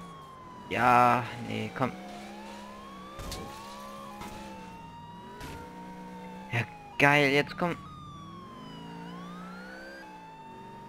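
A wailing police siren from the video game GTA 4, glitching and faulty, sweeping up and down in pitch, loud and close, while someone talks over it in bursts.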